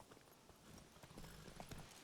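Horse hooves clip-clop at a steady walking rhythm in The Witcher 3, moderately loud over a busy game soundscape with faint background murmur.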